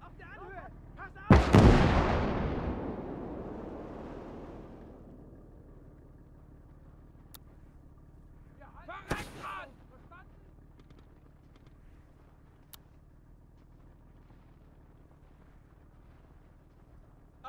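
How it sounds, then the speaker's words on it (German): Artillery fire in Call to Arms: Gates of Hell strikes with a loud, close blast around the second mark and rumbles as it decays, then a second, fainter explosion follows later under quiet background noise. "Мы под артобстрелом!"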